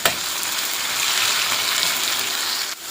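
Chopped tomato sautés in a hot pan for a coconut chutney, giving a steady, close, hissing sizzle that runs evenly for a few seconds without any talk.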